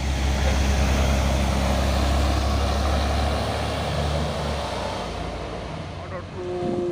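A Hino dump truck passes on a road with a loud, steady diesel engine roar that gradually eases off, heard up close with a light rush of traffic noise around it.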